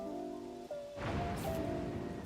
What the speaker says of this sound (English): hey look, the rain came back.